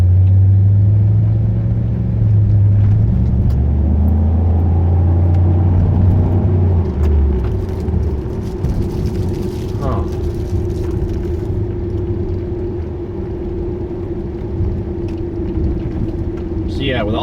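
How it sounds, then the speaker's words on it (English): Strong low rumble of a V8 car engine on a fall drive, loud and close, droning then revving with a shifting pitch, while a person talks over it. "So to actually hear that unique V8 sound"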